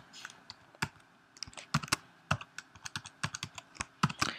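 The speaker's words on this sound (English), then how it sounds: "I'm just using my arrow keys to point to locations." Computer keyboard arrow keys are tapped in irregular bursts, sharp close clicks with short pauses between presses, alone without talk.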